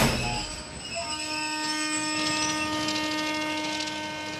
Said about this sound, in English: A single rail track which carries this cross-border train between India and Pakistan.